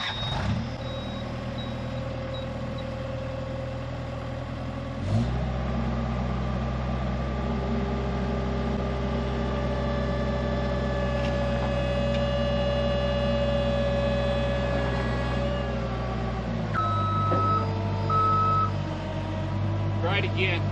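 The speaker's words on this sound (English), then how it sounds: "let me get in the skid steer and let's give this a try." A skid steer runs at a steady, loud diesel drone as it rocks a stuck engine on a 1945 Caterpillar D4 tractor, with the engine pitch shifting a few times over about twenty seconds.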